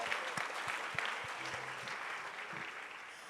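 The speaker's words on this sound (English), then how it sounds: "Send her forth with another round of applause." A church congregation gives a warm round of applause, dense clapping from many hands that starts full and gradually thins and fades toward the end.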